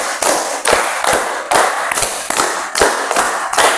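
A classroom of students clapping in unison, a crisp group rhythm of sharp claps in repeated bursts with short gaps between, loud and close.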